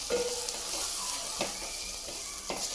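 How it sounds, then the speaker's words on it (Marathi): Ground coriander and cumin powder fry in hot oil with a steady, soft sizzle, broken by a few light scraping stirs of a spoon against the pan. "आता हे मसाले तेलामध्ये छान फ्राय होऊ द्यायचे"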